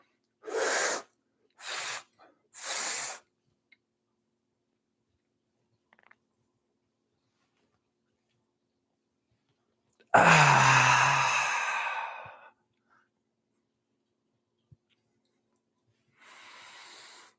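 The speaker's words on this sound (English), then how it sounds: "And stage breath creates a little more activation in the system." Audible stage breathing during a guided spine movement practice: three short sharp sniffing inhales, then a long forceful exhale, a pause, and a softer breath at the end, close and alone with no talk.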